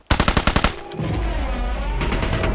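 Honey Badger rifle fire in PUBG Mobile: a rapid burst of about seven sharp, loud shots in the first second, then a sustained roar of continuous automatic fire with dense crackle, with no talking.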